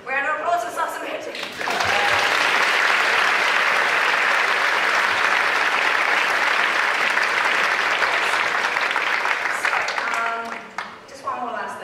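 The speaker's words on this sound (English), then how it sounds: "Round of applause for Salsa Magic." Loud, sustained applause from the audience at Salsa Magic's 20th anniversary salsa dance showcase, a dense roar of clapping lasting about nine seconds, with brief talk at the start and end.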